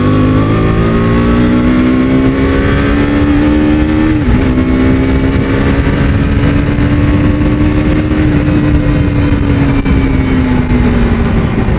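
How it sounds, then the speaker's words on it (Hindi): A 2022 KTM RC 125 motorcycle pulling hard in third gear from around 5000 RPM, its loud, buzzing single-cylinder engine note climbing steadily with a brief dip partway through, over heavy wind rush. "अभी मैं 3rd गियर पे हूँ, 5000 RPM पे चला रहा हूँ।"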